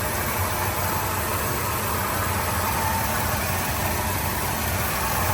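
A 1979 Ford F250 Custom Explorer pickup engine idles close by, a steady, rumbling, constant broadband drone with no change in speed and no voices.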